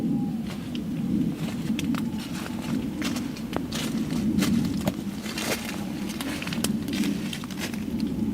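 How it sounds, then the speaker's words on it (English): Footsteps shuffle and crunch right beside a tent at night, as a string of irregular soft thuds over a constant low hiss. "she was awakened by loud footsteps right next to her tent"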